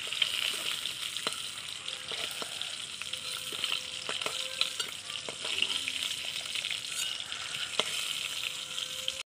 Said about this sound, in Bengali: ওই তেলেই জিরা ফোড়ন দিয়ে দিচ্ছি, এবার দিয়ে দিচ্ছি কেটে রাখা আলু